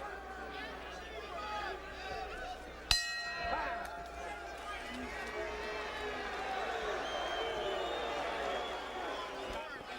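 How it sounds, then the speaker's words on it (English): A boxing arena crowd roars as round six ends, a sharp bell-like clang cutting in before a sustained swell of cheering and babble that carries on steadily. "And the crowd, I don't need to tell you, is into this fight as we finish round number 6."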